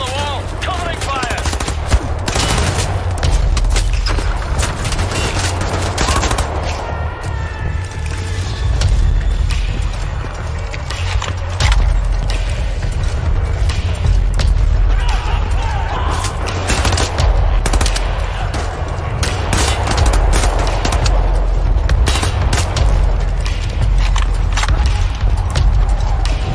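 Gunfire rattles through a firefight in the video game Wolfenstein: The New Order, loud sustained machine-gun bursts and scattered shots with mechanical clanks, overlapping nearly continuously with occasional voices shouting underneath.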